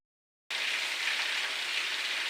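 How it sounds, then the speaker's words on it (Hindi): Rain falls steadily in the Uttarakhand hills, an even, close hiss that starts abruptly and holds constant without pause or voices. "आज यहाँ बारिश शुरू हो गई है लगभग अभी थोड़ी देर पहले से"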